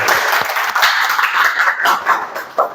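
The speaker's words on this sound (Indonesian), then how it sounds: "Tepuk tangan dulu untuk Mbak Karina" An audience at a learning-video class applauds a presenter named Karina, a loud, even patter of clapping lasting a few seconds with a few sharper individual claps near the end.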